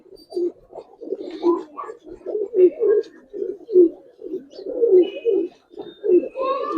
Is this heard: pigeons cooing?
yes